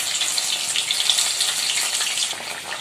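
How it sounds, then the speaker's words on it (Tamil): Mushroom pieces for Mushroom Manchurian fry in hot oil with a loud, steady, close sizzle and crackle that holds evenly throughout. "இப்போ நம்ம ஃப்ரை பண்ணிடலாம்"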